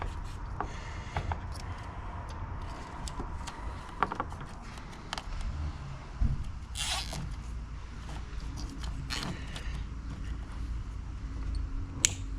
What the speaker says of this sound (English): I'm gonna zip tie that up out of the way so it doesn't dangle first.